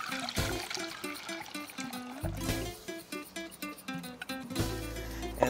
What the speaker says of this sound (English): After a couple of seconds, you'll want to tip off that water.